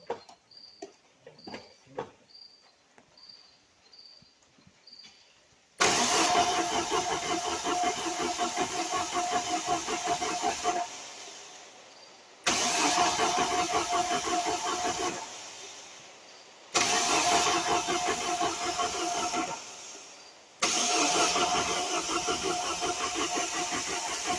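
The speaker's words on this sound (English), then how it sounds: "What do you keep cranking like that for the fuel?" A 1986 Shelby Charger autocross build cranks over and over without catching: four long, loud bursts of starter whirring, each lasting several seconds and separated by brief pauses, heard up close with no voices.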